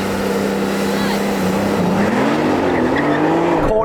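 A Porsche 911 Turbo S and a Carrera GTS launch off the line on cold tyres with stability control off. Loud, rising engine roar with wheel spin sits close and continuous, climbing in pitch as they pull away.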